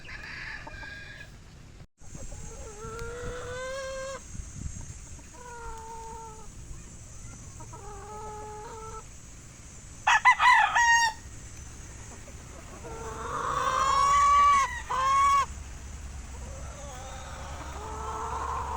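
Several gamefowl cockerels crow in turn in a scratch pen, some near and loud, some farther off, with scattered clucking between calls over a faint steady background hiss.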